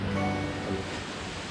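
A steady, full rush of falling water at Khlong Sai waterfall in Chaiyaphum, Thailand, fills the scene, dense and continuous with no breaks, close and fairly loud.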